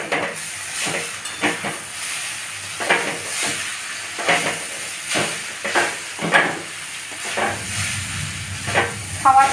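Egg chowmin noodles with chowmin spice mix and ground black pepper get stirred and tossed in a hot frying pan, giving repeated scraping strokes over a continuous sizzling hiss, close and moderately loud.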